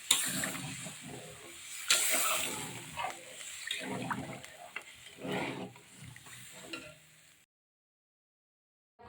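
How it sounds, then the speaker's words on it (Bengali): Duck egg and potato curry gravy bubbles at a boil with a hissing, gurgling texture and occasional stirring, close by, before cutting to silence. "আমার ঝোলটা কেমন ফুটে উঠেছে।"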